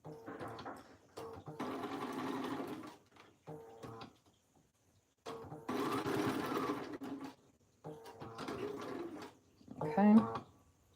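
A sewing machine stitches fabric for a plus-size fall wedding guest dress in several steady whirring runs of a second or more, separated by pauses, close and clear.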